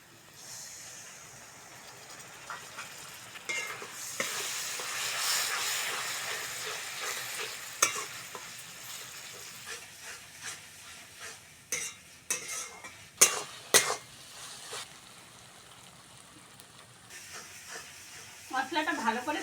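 Masala spice paste for a Bengali rohu fish kalia fries in oil with a continuous hiss, while a spatula scrapes and clatters against the pan in irregular bursts that grow sharper toward the end.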